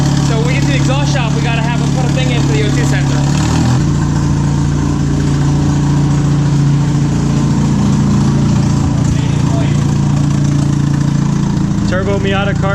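Turbocharged Miata-engined kart with no O2 sensor, running loud and close: a raw, steady engine drone with a rev change partway through, under someone talking.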